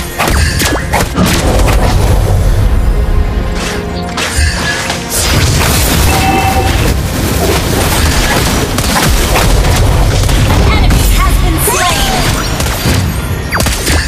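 A turret being destroyed in the Mobile Legends video game: loud booming crashes and smashing impacts pile up over a busy, continuous battle mix of effects and music.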